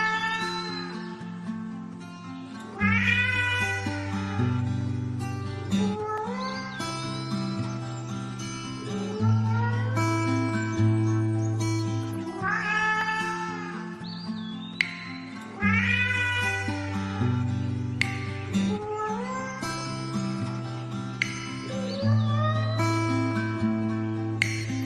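Cats meowing in a played cat recording, repeated mewing calls layered over a steady musical backing with a regular beat, moderately loud and continuous with no talk.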